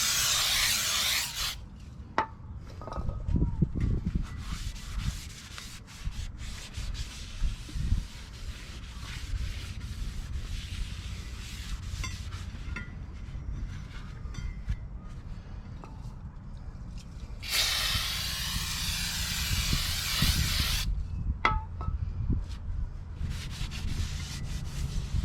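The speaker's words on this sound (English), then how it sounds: "Cleaning up my rotor with some brake clean." Brake cleaner hisses from an aerosol can onto a Toyota Sienna rear brake rotor in two long bursts, one at the start and one near the end, with scraping and handling noises between.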